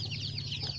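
Hens cluck softly and steadily inside a crowded coop, a brief low murmur of several birds heard from close by.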